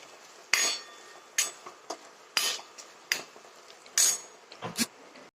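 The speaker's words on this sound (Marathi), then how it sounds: "आता हे हलवून घेते आपण" Dal made from urad and chana dal, with black masala, being stirred in a metal pot: sharp, close clanks and scrapes of a spoon against the rim come in irregular bursts, with quiet gaps between.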